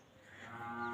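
A single cow lets out a low, drawn-out moo at a farm, rising slightly in strength as it continues, heard alone at moderate distance.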